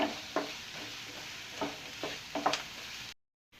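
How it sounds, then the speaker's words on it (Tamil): Onions sautéing in oil in a pan for egg podimas, a soft steady sizzle broken by several scraping stirs of a spatula, then a sudden cut to silence near the end. "எண்ணெயிலே வெங்காயம் நல்லா வதங்கட்டுங்க."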